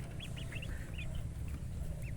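Muscovy and Mulard ducklings make faint, high, repeated peeps in quick little bursts over a constant low rumbling background, with no talking.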